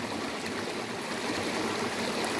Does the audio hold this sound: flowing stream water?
yes